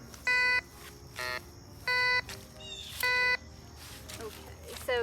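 A Ricomax GC-1037 metal detector sounds a series of sharp electronic tones while ringing on a buried target, several evenly spaced beeps of varying pitch, near and clear over faint outdoor background, with someone speaking between them.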